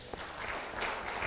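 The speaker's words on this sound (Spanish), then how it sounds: "Un buen aplauso, Señor." Applause from a church congregation at a Spanish-language Christian service, a brief dense patter of many hands clapping together, steady and moderately loud throughout.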